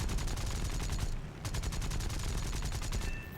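Aircraft machine guns in the War Thunder combat flight game firing in rapid, evenly spaced rattling bursts with a brief break between two long volleys, loud and close.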